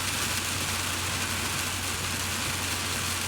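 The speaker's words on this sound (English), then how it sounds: "I apologize for the rain." Heavy rain pours down in a dense, even hiss with a faint low hum beneath, steady throughout.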